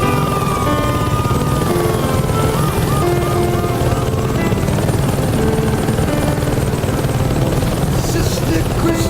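Helicopter in the Saints Row 2 video game, a loud continuous rotor and engine roar that runs unbroken throughout, with faint siren-like tones and music layered beneath it.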